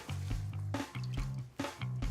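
A tissue treated with hydrophobic coating is dipped and lifted in water, making soft squishy splashes and drips in a repeating rhythm, close up and with no talk.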